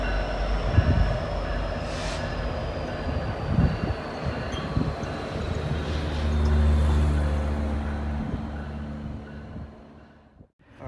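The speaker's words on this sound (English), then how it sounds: "Amtrak should be coming out there in the next 4 or 5 minutes." Amtrak train rumbling near a tunnel mouth at Gallitzin, Pennsylvania, a steady rail roar with low droning engine tones that swell midway, then fade abruptly near the end.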